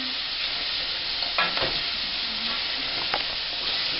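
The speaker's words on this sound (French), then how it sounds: "On le dépose à l'intérieur. Et voilà. On remue un peu." Ham being stirred while it fries in a pan for Kraft Dinner: a steady close sizzle with a few scraping utensil strokes, and no talk.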